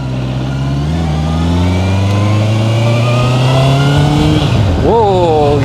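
A heavy 210 kg motorcycle revs while being ridden, its engine note climbing steadily and loud throughout, then dropping and surging again near the end as the rider shifts into second gear.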